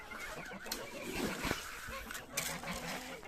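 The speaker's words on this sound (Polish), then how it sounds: "Gęsioły." Geese honk among farmyard poultry during a morning feeding, a few sharp calls rising over a busy background of clucking and rustling.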